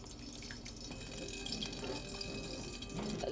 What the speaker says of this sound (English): I'm going to add half cup of water.